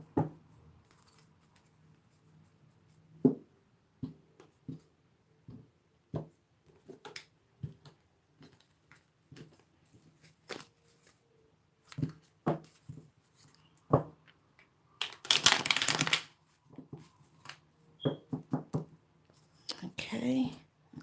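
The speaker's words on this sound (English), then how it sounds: "So I'm just shuffling now." Tarot card decks shuffled by hand in a quiet room: soft scattered clicks and taps, then a brief, louder riffling burst, with quiet speech in between.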